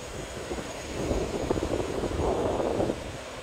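A drone flying autonomously outdoors on a windy day, its propeller whine forming a steady broadband drone that swells louder in the middle, with wind rumble mixed in.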